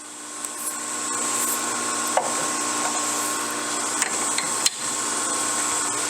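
A Logan lathe parts off a metal piece, a steady whirring machine drone with a faint high tone and a few sharp ticks and clicks scattered across it, close and continuous.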